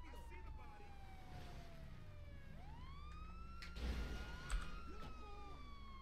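Police car siren in GTA 5, a wailing electronic tone sweeping down then rising again in repeated cycles, moderately loud over a low engine rumble, with brief thumps partway through.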